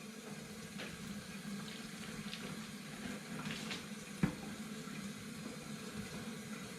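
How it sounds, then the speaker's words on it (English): Cold tap water running steadily into a sink over a cured salmon fillet being rinsed of salt and sugar, a soft continuous splash with one brief knock partway through. "you want to run this under cold water"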